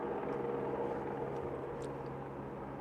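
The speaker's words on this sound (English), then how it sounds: "Can you guys hear the plane?" An airplane passes overhead as a steady, faint droning hum with a low tonal whine, heard alone in the background of a quiet indoor room.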